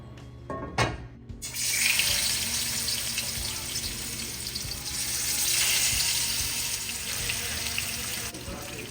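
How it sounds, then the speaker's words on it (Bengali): Snakehead fish fry in hot oil in a wok, a loud, dense crackling sizzle that starts after a brief clatter and continues steadily, swelling slightly midway, with no talking. "এরপর কড়াইতে তেল গরম করে মাছগুলো এক এক করে ভেজে নেব।"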